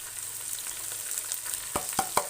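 Finely chopped onions, three to four of them, frying in a pan make a constant soft sizzle, with a few sharp spoon-against-pan knocks near the end.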